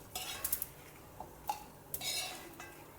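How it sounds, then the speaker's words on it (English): Roasted masalas tipped into a dry grinder jar, heard as a quick run of light clinks and taps followed by a brief rattling pour, all faint and close. "Put all the masalas into your dry grinder jar."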